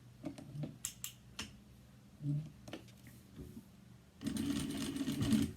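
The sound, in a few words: sewing machine top stitching around a zipper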